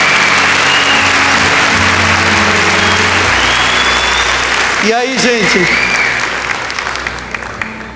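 Audience at a Catholic church talk applauding loudly and steadily, with a brief spoken phrase cutting in midway before the clapping gradually thins and fades toward the end.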